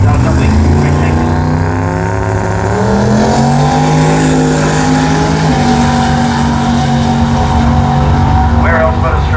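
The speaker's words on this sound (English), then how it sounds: "We can see a boosted LS Skyline going to the track with an 814 at 170 mile an hour." Boosted LS-powered Skyline race car accelerating down a drag strip at a jamboree, a loud rising engine howl climbing steadily with a brief gear change midway, close and dominant, with crowd or announcer voices mixed underneath.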